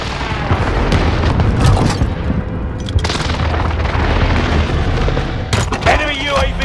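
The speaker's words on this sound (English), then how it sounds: "Allied precision airstrike incoming." Precision airstrike explosions in Warzone, with loud, repeated booms and crackling blasts over constant battle noise and gunfire.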